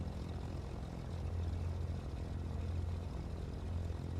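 Simulated Cessna 310 piston engine idling at about 900 RPM in a MilViz flight simulator, a steady low propeller drone with a deep rumble that holds even and close for the whole stretch, with no talking.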